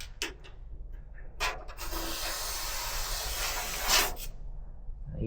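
Continuous spraying hiss of cavity wax being applied to a classic Mini saloon boot lid, preceded by a few short bursts and ending with a brief stop, heard close and alone.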